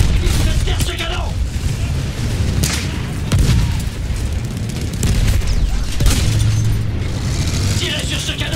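Artillery cannons fire in Battlefield 1, a First World War shooter, with heavy booms repeating through dense, loud battle noise. Voices shout at intervals throughout.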